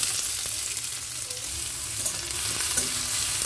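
Hot, very spicy chilies and onion fry in oil with five-spice tempering, a steady crackling sizzle with occasional stirring clinks and scrapes, close and moderately loud.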